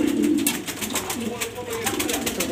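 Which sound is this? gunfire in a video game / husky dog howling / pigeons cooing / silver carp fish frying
pigeons cooing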